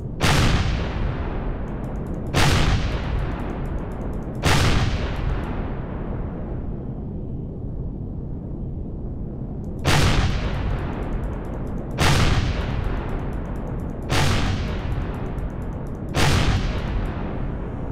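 Heavy turret cannon shots in the space survival game Empyrion Galactic Survival, seven loud booming blasts at roughly two-second intervals with a pause in the middle, each decaying into a rumbling tail.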